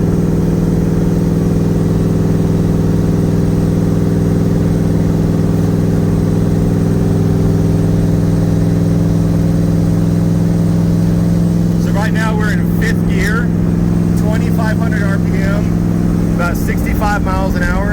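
The engine of a Nissan Z31 IMSA widebody drones at a steady low pitch from inside the car while driving, constant and loud throughout, with a voice speaking over it in the latter part.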